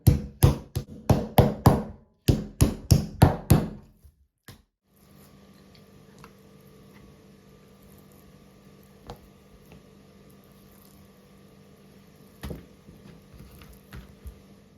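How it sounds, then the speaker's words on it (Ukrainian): About a dozen quick, heavy thuds in two bursts, a mallet pounding pork tenderloin on a board, followed by quiet room hum with occasional faint clicks. "Беремо молоток і відбиваємо нашу вирізку."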